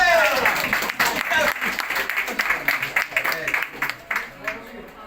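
An audience at an award ceremony claps loudly for a recipient in a dense, irregular round of applause that keeps going with small dips, while voices carry faintly over it.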